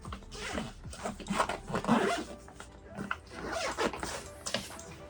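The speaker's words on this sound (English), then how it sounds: "Nice zippers on it, nice feel." A motorcycle bag's zipper is pulled open in several short, rasping strokes, close up, with brief pauses between pulls.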